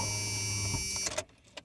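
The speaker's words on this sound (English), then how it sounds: "Sorry about the cars and everything." Cars pass on a road near Hopland, California, amid rolling vineyard hills: a loud, close roar of passing traffic holds steady, then cuts off sharply into near quiet with a couple of soft thumps.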